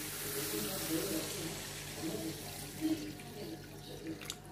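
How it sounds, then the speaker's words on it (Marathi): Water pours into a cooking pot of spicy Khandeshi dubuk vade curry, a soft continuous splashing stream heard close and fairly faint. "आता मी याच्यामध्ये 3 ते 4 कप पाणी टाकणार आहे."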